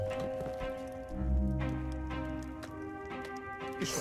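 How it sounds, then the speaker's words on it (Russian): Horse hooves clip-clopping in the Rust survival video game, steady and close with a tonal game soundscape beneath, a few sharper taps near the end. "Подожди, вот тут лошадь"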